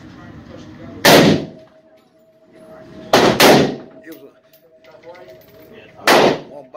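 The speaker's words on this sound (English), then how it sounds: "Got Ramon shooting a BB gun over him." A few sharp, loud shots from an AR-style BB gun fired over a man, heard as three separated cracks, one of them a quick double, with quiet background between them.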